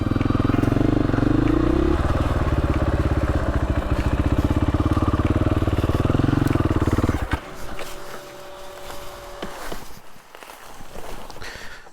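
Dirt bike on a singletrack trail in Arkansas, its engine droning loudly up close before cutting off, leaving quieter rustling and faint outdoor sounds.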